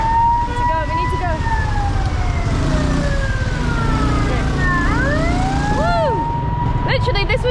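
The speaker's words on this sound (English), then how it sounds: "It's an ambulance" An ambulance siren wails loudly through heavy city traffic in Vietnam, its rising and falling tone sweeping over a steady roar of engines, with a second siren pattern and a horn burst near the end.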